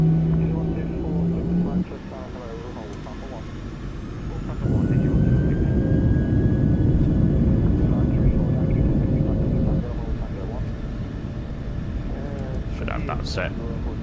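A Ryanair airliner spools up and rolls for takeoff from runway 23 left, a deep steady engine roar with a rising whine heard from the cockpit, with a voice briefly at the start.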